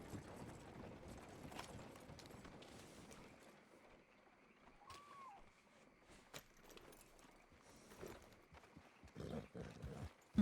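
Hooves of a horse walking in the Red Dead game world, a steady clip-clop of footfalls with faint clinking tack over a low background bed, moderately loud and without talk.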